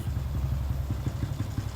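A 2005 Honda Wave 125i motorcycle engine running up close with a rapid low pulsing throb, loud and steady through the short clip.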